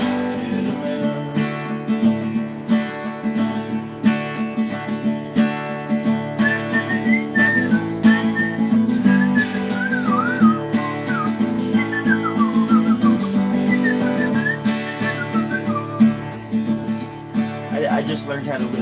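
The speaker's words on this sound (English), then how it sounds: "I just learned how to whistle yesterday." An inexperienced whistler carries a tune in wavering, uneven pitches that slide and break off. The whistling is fairly close and sits over a steady background of other sound.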